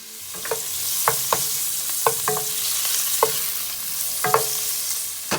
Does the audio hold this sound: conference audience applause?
no